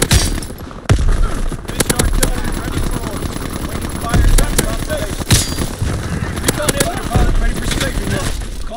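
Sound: strafing run gunfire in a video game

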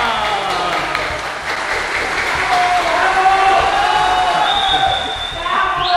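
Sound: audience applause and cheering

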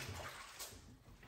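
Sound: washing hands with water

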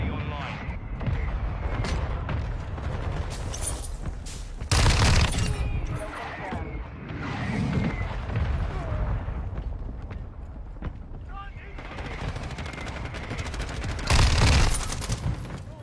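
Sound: mortar strike explosions and gunfire in a video game

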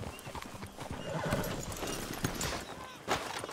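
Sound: horses clip-clopping in the video game Red Dead Redemption 2

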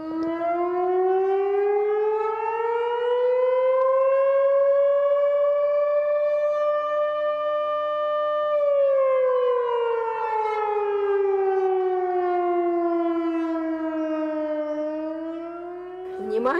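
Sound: civil defense siren wailing

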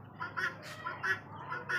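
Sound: male guinea fowl calling

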